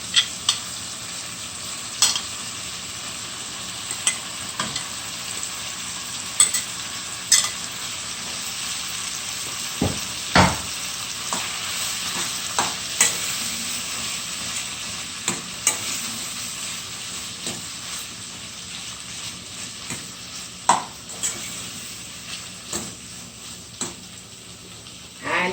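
Corned beef frying in a pan for a Jamaican corned beef and spaghetti dish, a continuous hissing sizzle with frequent sharp scrapes and taps of a spoon against the pan, close and steady throughout with no talking.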